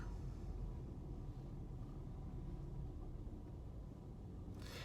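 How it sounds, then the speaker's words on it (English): Steady low road rumble inside a car being driven, a continuous quiet hum and tire roar with no talking. "I'm currently driving to work."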